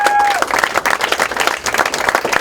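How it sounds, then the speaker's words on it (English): Crowd at an election-night speech applauding poll volunteers, loud clapping from many people close by, with scattered louder claps and a brief tone at the start. "Big round of applause for every volunteer that was at our polls today."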